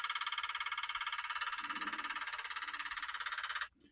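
A jackhammer hammers in a fast, even pulse on an urban street and stops abruptly near the end, loud and close.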